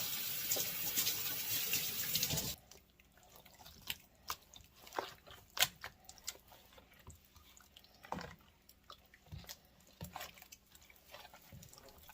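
Hands are washed under a running kitchen tap before mixing fish and chicken seasoning for an African dish. About two seconds of steady splashing stream give way to drips and soft, wet handling sounds.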